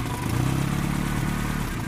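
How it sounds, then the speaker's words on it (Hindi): The petrol engine of a 1989 Hindustan Contessa running at a steady idle, a continuous close rumble with a faint rattly clatter. "यह है इसका इंजन नॉइस।"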